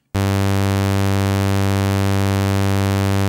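A raw sawtooth synth waveform run through the Fruity WaveShaper in FL Studio, heard as a loud, steady, bright buzzing tone held for about three seconds with abrupt start and stop.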